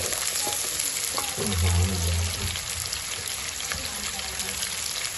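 Chopped onions frying in oil in a pan for tinda gosht, a steady close sizzle with a brief stir and clatter early on, continuous throughout.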